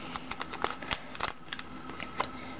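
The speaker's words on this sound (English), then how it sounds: "take 1 of the green parts in the back and fold it down like" Origami paper is creased and folded by hand in quick, soft crinkles and sharp taps, faint and close, with no voices.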